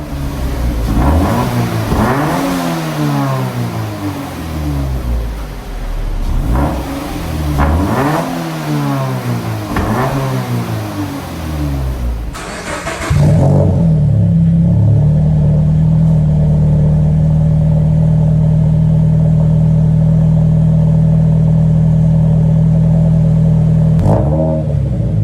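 A Toyota 86 fitted with an Invidia exhaust revs loudly and repeatedly, with rising and falling sweeps, then settles into a steady, droning idle after a sharp change partway through. A brief blip comes near the end, and no one talks.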